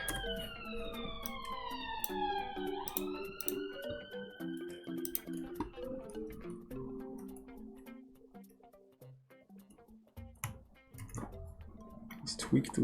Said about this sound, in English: Sorry about the sirens.